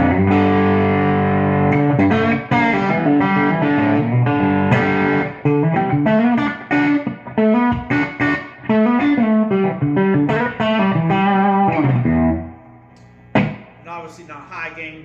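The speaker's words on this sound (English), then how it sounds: "And obviously not high gain, but a little bit more distortion" An electric guitar on its bridge humbucker plays a mildly distorted, moderately driven riff of strummed chords and single notes, loud and up close, ending with a short pause before a few final notes.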